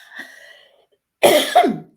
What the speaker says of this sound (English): I just had a cough over that